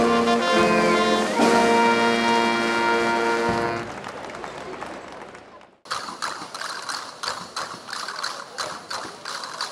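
A crowd claps during a religious procession bringing out the image of the Virgen Grande in Torrelavega while church bells ring. A loud ringing tone fades into scattered clapping, then sharp irregular claps continue after a brief silence.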